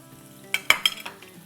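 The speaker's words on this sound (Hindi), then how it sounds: "और यहाँ है आधा कप चॉप्ड अनियन, तो ये डाल देंगे।" Chopped onion dropped into a pan with ginger garlic paste for man-chow soup, giving a brief stir and scrape with a light sizzle, close and short, with no talking.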